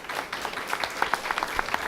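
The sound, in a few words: audience applause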